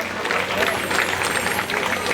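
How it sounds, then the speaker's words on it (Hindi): Loud applause from a crowd at a Bhagvat Katha gathering, welcoming the chief guest on stage: steady, dense clapping that fills the whole moment with little change. "तो उनके लिए एक जोरदार तालियों से स्वागत करें उनका"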